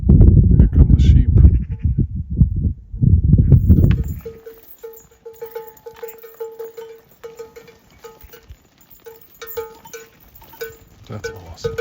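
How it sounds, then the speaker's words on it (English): Sheep bleat repeatedly on a Montenegrin mountain slope, with cowbells clanking among the flock; a voice talks over the first few seconds before the calls take over, steady and moderately close. "Here come the sheep."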